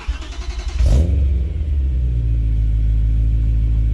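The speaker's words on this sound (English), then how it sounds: "So let me get the car started, then you can see it. Yes, as well as can hear the engine." A BMW E93 M3 engine cranks and fires up, flaring into a sharp rev before settling into a steady, deep, loud idle rumble close by.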